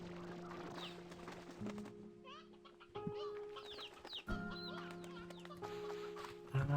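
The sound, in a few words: painted hens clucking in video game Slime Rancher 2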